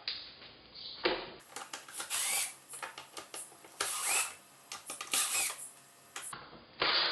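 A drill fitted with a T15 Torx bit backs screws out of a GM tow mirror's bezel in scratchy, uneven bursts of grinding and whirring, close up and with no talk.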